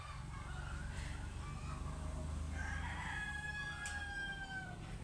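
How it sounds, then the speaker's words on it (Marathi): A rooster stuck in a yard crows once, a drawn-out call at moderate distance over a constant low hum of background noise. "तर तो थांबलेलाच आहे कोंबडा अजून पण"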